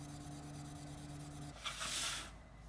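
Wet sanding of a 1/24 scale model Peugeot 306 Maxi rally car body with 6000 grit paper: a low hum gives way to a short, close, hissy scrubbing burst lasting under a second.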